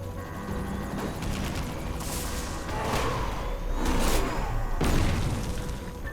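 Mortar explosions boom in Secret World Legends, several heavy blasts with bursts of crackling gunfire layered over a continuous rumbling battle din, loud and fairly close.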